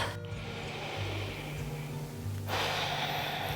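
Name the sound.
breath taken during a yoga pose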